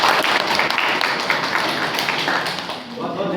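College students give hearty applause to welcome a senior professor at a college program, a close, busy clatter of many hands that fades slightly toward the end, with voices talking over it.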